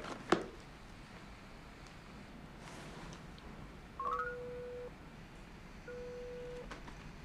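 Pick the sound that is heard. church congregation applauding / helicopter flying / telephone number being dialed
telephone number being dialed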